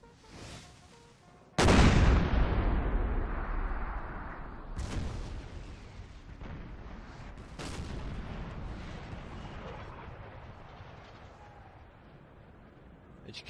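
Napoleon Total War artillery at the Battle of Austerlitz fires three heavy cannon shots spaced a few seconds apart, each a sharp crack followed by a long rumbling decay, with the first blast the loudest.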